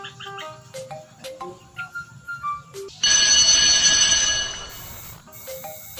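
A phone ringing out on an outgoing call, a loud steady ring tone lasting about two seconds, after a run of short beeping tones like keypad dialing.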